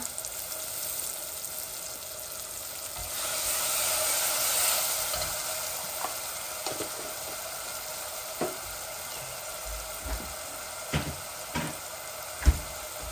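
Grated ginger and garlic sizzle in hot oil for a meat and potato curry, with a steady frying hiss that swells midway, then several sharp spatula clinks and stirring knocks toward the end.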